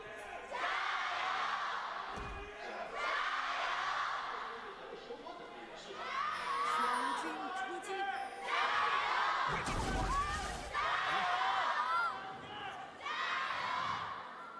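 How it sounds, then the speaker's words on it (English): Fans cheering OMG in the Chengdu Arena at a League of Legends LPL match, rolling in loud waves of chanting and shouting that rise and fall in repeated bursts, with a sharp thud partway through. "It's the first time I've heard OMG crowds be a lot louder than the WE crowds"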